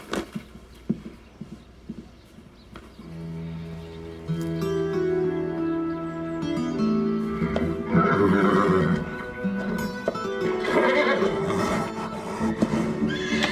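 A distressed horse, unable to move around, whinnies repeatedly, loud and agitated, with hoof clops and shuffling nearby; the neighs grow more insistent toward the end.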